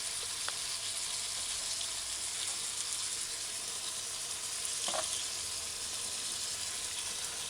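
Onion rings sizzle in a skillet in a steady, close hiss with occasional small pops and spatters, with no talking.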